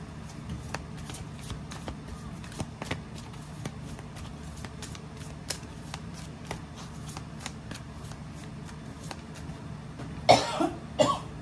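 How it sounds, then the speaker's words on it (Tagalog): Repeated sharp, dry coughs break out at short, uneven intervals, close and fairly faint over a quiet background, with a louder burst of coughing near the end. "inuubo talaga ako"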